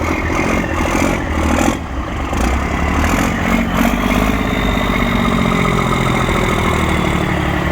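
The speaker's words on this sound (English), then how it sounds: "This lorry sounds pretty impressive, I'll tell you. It's nice deep exhaust on it." A deep, rumbling vintage lorry engine idles steadily close by at an outdoor vintage vehicle event in Scotland, its low exhaust throb constant with a brief dip partway through.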